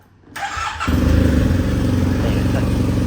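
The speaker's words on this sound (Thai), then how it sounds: "เดี๋ยวสตาร์ทให้ฟังเสียงเครื่องยนต์กันดูนะครับ" A 2019 Yamaha TMax DX 530 scooter starts up after a brief near-silence with a quick starter whir, then catches and settles into a loud, steady close idle rumble.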